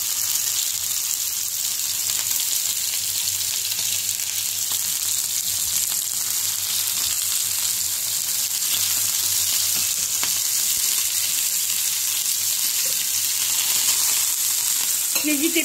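Pieces of food sear in a hot frying pan while cooking couscous, giving a steady, loud, continuous sizzle and crackle with no pauses, close by and without talk.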